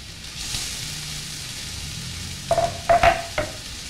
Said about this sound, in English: Now I put in my onions and garlic.